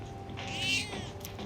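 A single soft cat meow from the video game Persona 3 Reload, rising and falling briefly over a quiet steady background of game music.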